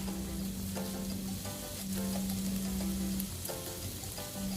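Ground pork frying in a pan while being stirred with salt, pepper and seasoning, a steady sizzle broken by the repeated scrape of a utensil against the pan, no talking.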